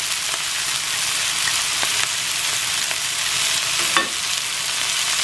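Sweet and sour sauce poured over pork sizzling in a pan, a loud, continuous hiss of frying with faint stirring scrapes, no talk.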